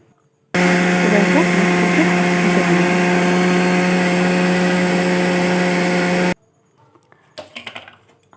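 Electric blender grinding potato, cauliflower, tomato, puffed rice and flour into a batter, a steady loud whirring drone for about six seconds that stops abruptly, followed by faint clinks.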